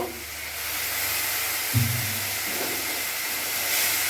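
Water hits frying spice masala of Kashmiri chilli powder, cumin and turmeric in a pan for pabda fish curry, giving a loud, continuous steamy sizzle with a sharp burst partway through.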